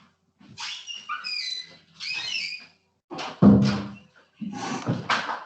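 A dog whines and yelps in a few short bursts nearby, the vocal sounds coming in separate clusters with pauses between them.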